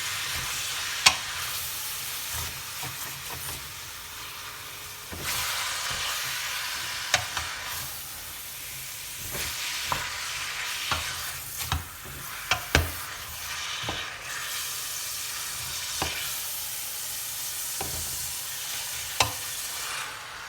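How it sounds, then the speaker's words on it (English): Ground meat for enchiladas fries in a pan with a continuous sizzle while a utensil stirs and scrapes it, giving irregular clacks and knocks against the pan, close up and without talk. "you have to continuously be stirring the meat so that it doesn't burn"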